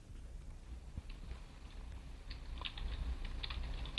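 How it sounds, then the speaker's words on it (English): Typing on a computer keyboard, entering an equation during a demonstration: faint, scattered key clicks in irregular bursts over a low background hum, with no voices. "So she's typing down there an equation"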